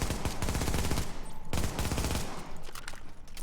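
An SMG in The Division fires feathered bursts: loud, rapid bursts of gunfire separated by brief breaks, with dense echoing shots in an intense game soundscape and no talking.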